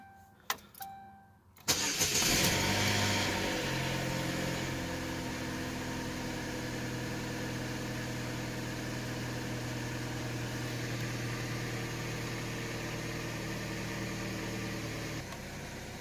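A 2004 Chevy Cavalier with a 2.2-litre four-cylinder and 312,000 miles, low on coolant and with a bad coolant temperature sensor, cranks briefly, fires and settles into a steady, close idle that continues alone.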